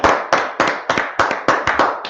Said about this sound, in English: I'm going to clap it up for the Lord